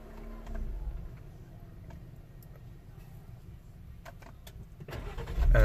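Jeep Wrangler JL switched off and back on: a low idle fades to quiet with small clicks and ticks from the cabin, then the engine starts up loudly near the end.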